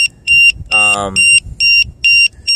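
Loud electronic LiPo battery low-voltage alarm beeping in a steady repeating pattern of short high-pitched bursts, with a brief voice cutting in partway through.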